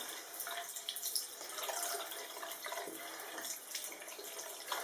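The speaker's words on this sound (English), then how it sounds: "I'm going to add some water to this brush and just go over the rinse section" Water running over a makeup brush being rinsed on a cleaning glove, with steady splashing and dripping close by, fairly soft and continuous with no talking.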